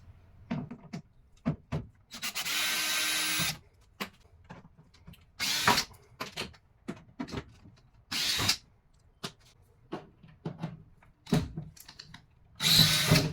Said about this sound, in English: So we're just going to remove these screws